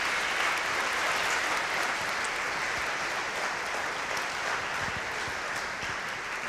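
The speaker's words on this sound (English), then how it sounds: "So if you can give her a round of applause" Sustained, dense applause from an audience at a school symphonic band and wind ensemble concert, steady and evenly loud throughout, with no voices rising above the clapping.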